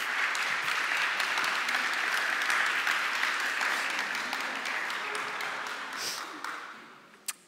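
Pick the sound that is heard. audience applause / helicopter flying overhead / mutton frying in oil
audience applause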